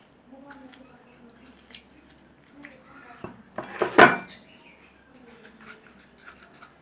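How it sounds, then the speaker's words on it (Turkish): A metal vegetable corer hollows out a tomato being prepared for drying as dolma shells, making wet scraping and clinking that swells to a loud burst midway, while a voice talks throughout. "bir oyacak yardımıyla aynı patlıcan biber oyar gibi içini oyuyorum"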